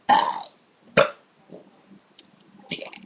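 Someone lets out loud burps during a burping contest: a long burp, then a shorter one, followed by faint murmurs and small sounds.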